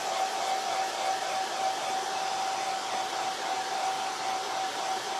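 A hair dryer blows continuously at close range, giving a steady, loud rush of air with a thin constant whine running under it.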